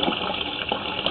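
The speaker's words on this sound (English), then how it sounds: "That's your commode flush right there." A toilet flush drains into a sanitary line in an old building, heard as a brief, steady rush of water gushing through the pipe, fairly close and with no talk.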